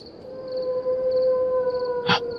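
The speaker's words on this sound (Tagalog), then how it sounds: "Nakakatakot naman ang alulong ng aso" A dog howls in one long, steady, eerie tone, loud and sustained, with a brief sharp noise near the end.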